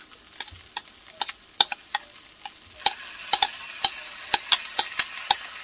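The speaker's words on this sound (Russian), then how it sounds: "И теперь выливаем нашу вкусную, ароматную заливку." Sauce goes into a frying pan of eggplant and gets stirred, with a soft sizzle under a steady run of crisp spatula knocks and scrapes against the pan that grow more frequent and sharper toward the end.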